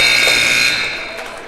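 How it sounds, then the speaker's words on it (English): A buzzer sounds at a boys' varsity high school basketball game, a loud sustained electronic tone that dies away over about a second and a half as crowd noise remains. "Ball's taken away at the buzzer."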